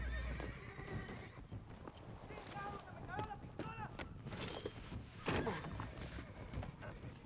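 Horses in the Western video game Red Dead Redemption whinny with rising, wavering cries over the clip-clop of hooves, set against a busy game soundscape with a voice briefly present.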